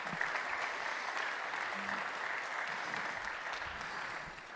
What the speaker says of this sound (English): So I'd like some applause for Stefanie,